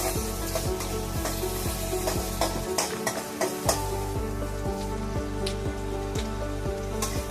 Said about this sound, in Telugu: ఆనియన్ ఫ్రై అవుతుందండి.